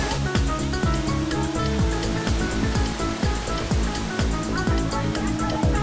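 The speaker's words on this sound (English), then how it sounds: "All right, this looks more like waterfalls." A waterfall at Kulen, Cambodia, pours as a constant dense rush of water, loud and close, with short falling chirps scattered through the roar.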